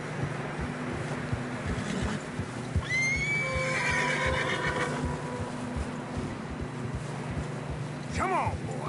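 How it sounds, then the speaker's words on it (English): Horses whinny in deep fresh snow in Red Dead Redemption 2, one long rising neigh near the start and another short cry near the end, over wind noise, soft hoof steps and voices talking. "Horses are struggling."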